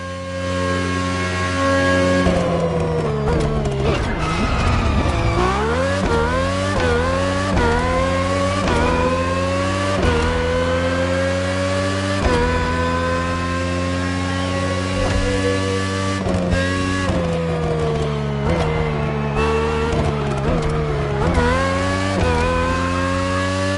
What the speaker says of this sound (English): RB18 is the latest model, with more aggressive aerodynamics and a powerful Honda engine.